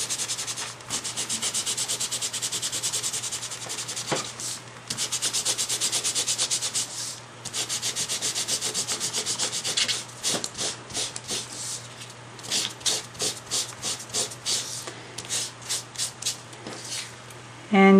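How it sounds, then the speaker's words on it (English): Dry sponge buffing crayon off embossed paper, a close, steady scratchy rubbing that runs in long continuous passes and then breaks into quicker short back-and-forth strokes, with no talking. "I'm going to come in with a dry sponge that doesn't have anything on it, and I'm going to just buff off the crayon"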